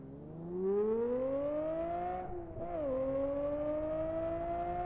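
A V12 race car engine in the Live for Speed driving game revs alone throughout, its pitch climbing steadily, dipping briefly on a shift near the middle, then rising again, loud and close.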